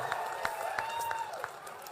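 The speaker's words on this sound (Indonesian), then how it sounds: "Tepuk tangan dulu, lihat tepuk tangan dulu." Audience clapping at a student forum, a modest spread of hand claps with a few sharper individual claps, moderately faint and steady over two seconds.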